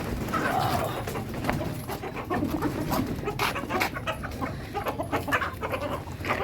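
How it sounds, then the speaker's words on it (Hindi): A flock of hens just let out of their coop clucks and squawks continuously, many birds close by in a busy overlapping chorus, with faint rustling around them. "ये मुर्गियाँ हमने खोल दी हैं जी।"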